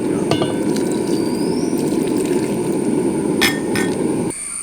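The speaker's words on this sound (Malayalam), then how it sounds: "കുറച്ചുകൂടി വെള്ളം ഇതിലൊഴിക്കണം" Water pours steadily into an uruli pot holding pineapple, a continuous close splashing fill with a few metallic clinks, cutting off abruptly near the end.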